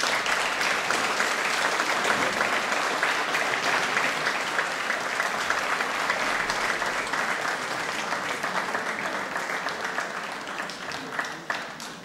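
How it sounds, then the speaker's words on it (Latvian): Sustained applause from a concert audience in a Līgatne culture house greets young children at a festive November concert, a dense, steady wash of clapping lasting throughout without pause. "Mēs varam sagaidīt viņus ar aplausiem."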